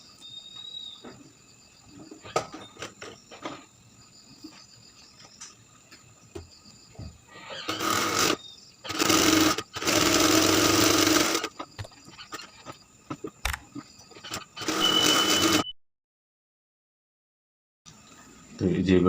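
A sewing machine stitches the corner of a shirt collar in bursts, loud whirring runs of a few seconds each with pauses between, close up, over a steady background hum and brief talk.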